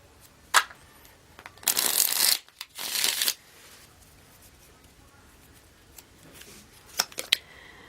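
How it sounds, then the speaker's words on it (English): Tarot cards are shuffled in two dense riffling bursts up close, with a few sharp card taps before and after in an otherwise quiet room. "One more shuffle."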